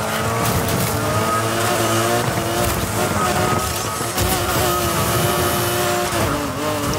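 Car drifting during a race in the game NFS Heat, a loud, continuous engine roar with rising and falling revs and a hint of tire squeal throughout, alone without talk.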